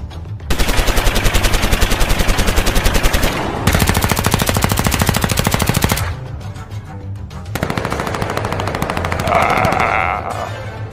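Gunfire erupts in an animated adventure episode on an order to fire at will: loud, rapid machine-gun bursts in long sustained volleys, a brief pause, then another steady stream of shots.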